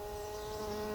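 A housefly buzzes right by the microphone in a motorcycle carbon-kevlar repair setting, a steady close droning hum filling the whole moment, loud and continuous with no speech.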